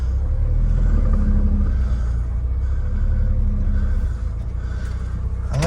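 A cheap, breakdown-prone Smart car drives slowly down a small lane after reversing, giving a loud, steady low engine rumble and road noise heard from inside the cabin, with no talk.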